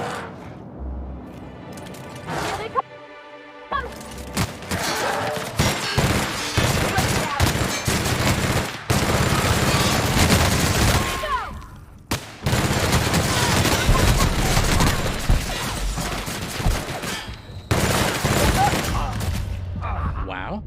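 Rapid bursts of light pistol Mach 3 gunfire in The Outer Worlds, loud clustered shots in several volleys separated by brief pauses, with impacts and game effects layered between them.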